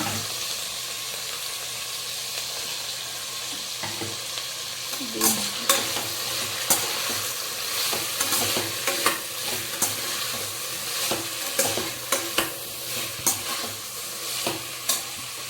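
Potatoes and carrots frying and being stirred in a pan while cooking mint pulav, with a steady close sizzle and repeated scraping stirs in an irregular rhythm, no talking.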